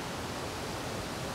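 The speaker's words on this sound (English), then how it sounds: "it's a waterfall on up there" A waterfall in the North Carolina mountains, heard as a steady, even broadband rush of falling water, soft and somewhat distant, with no voices over it.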